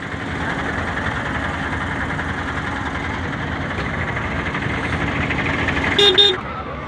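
An auto rickshaw engine idles nearby at a goat and sheep market with a steady rumbling drone, and a short honk sounds near the end over busy outdoor background noise.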